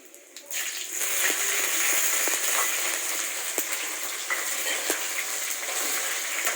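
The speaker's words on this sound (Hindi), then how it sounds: "हरी मिर्च को अच्छे से भूनेंगे" Green chillies fry in hot oil with cumin and a bay leaf in a pan, giving a steady, moderate sizzle with a few faint clicks and pops throughout.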